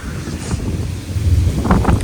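Gusty wind blowing through trees in a village during a storm with rain, blowing hard past the microphone as loud buffeting rumbles and whooshes that rise and fall from moment to moment.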